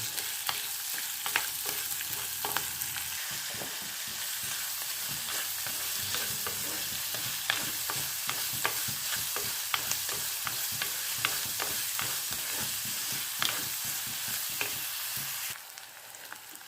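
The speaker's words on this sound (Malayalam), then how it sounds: "മുളക് പൊടി മല്ലിപ്പൊടി മാത്രം ഇട്ട് വഴറ്റിയെടുക്കുക" Tomato and onion sautéing with chilli and coriander powder for a coconut-free Kerala-style curry: a steady sizzle in the pan, broken by repeated scraping stirs of the spoon, close and clear with no voices.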